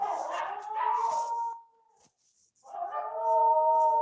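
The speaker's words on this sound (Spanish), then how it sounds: "les dio ataque de aullido a los perros nuevamente" Dogs howl in the background, long wavering mournful tones that break off into a brief silence and then resume, loud and close.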